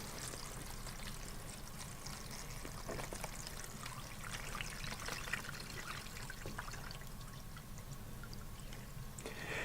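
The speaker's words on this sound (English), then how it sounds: "And then I'm going to water in." A diluted fertilizer solution poured over trays of young tomato seedlings, a soft, steady stream of water pattering onto soil and trays without pause.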